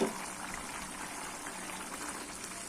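Water bubbles at a boil in a pot over a high flame while vegetable biryani cooks, a soft, continuous simmering fizz heard close and fairly quiet.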